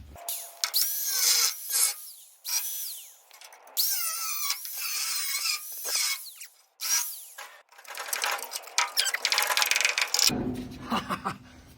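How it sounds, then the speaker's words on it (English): An angle grinder cuts through an old truck bed mounting on a Tri-Five pickup under restoration. It gives loud, high whining bursts that start and stop repeatedly, the pitch shifting as the disc bites into the metal, with a lower rumble near the end. "I got my handy dandy angle grinder here"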